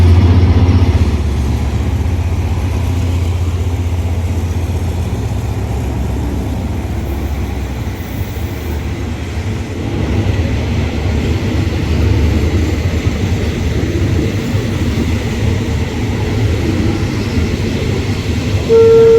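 A freight train pulls into Ban Pong station in Thailand, heavy low rumble and rolling wagon noise filling the whole stretch at close range, with a brief high horn-like tone near the end.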